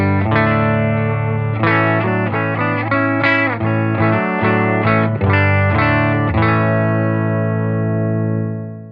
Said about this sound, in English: I'm plugged into a Silktone amp, and it sounds like this.